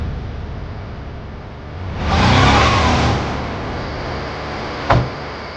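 A car engine revs up in a short, loud surge, then eases back to a steady hum; a sharp click sounds near the end.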